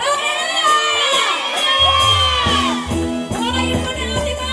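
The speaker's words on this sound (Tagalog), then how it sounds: "isa nga pong papuring todong sigaw! Hallelujah!" Church congregation at a Filipino Sunday praise and worship service lets out a loud, sustained shout of praise, a dense roaring crowd of voices and whoops with music and a steady beat underneath.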